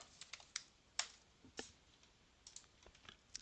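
Typing on a computer keyboard, several quick, light key clicks in an irregular rhythm, heard close and alone in a quiet room.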